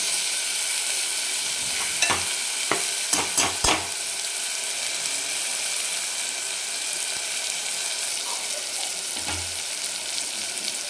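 A spoon works through a Khandeshi dal mixture in a pan over a medium gas flame, giving a steady background sizzle. A handful of sharp metallic clinks against the pan come early, then the stirring fades into even frying hiss.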